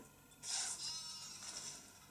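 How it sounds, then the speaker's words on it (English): A sheep bleats in the Pocket Heroes mobile game as an ogre is transformed into a sheep, one faint, wavering bleat lasting over a second above quiet background. "So that ogre was just turned into a sheep, as you just heard"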